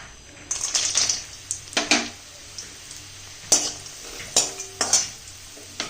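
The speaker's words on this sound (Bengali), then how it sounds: "সব থেকে আগে আমি ভেজে নেব আমার এই টুকরো করে রাখা ডালের বড়ি কটা" Pieces of lentil badi frying in hot oil in a large kadai, a crackling sizzle broken by repeated close scrapes and clinks of a spatula against the pan.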